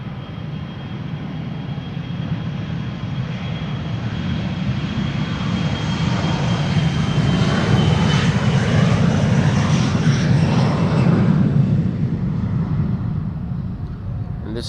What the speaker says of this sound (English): This is KLM flight 1185 to Kristiansand.